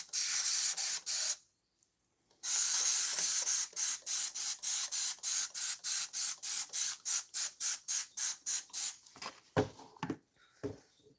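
Cleaner sprays onto an engine cylinder head in a run of quick trigger pumps, an opening long hiss, a pause, then a steady series of short, crisp spray bursts close to the microphone that fade into scattered taps.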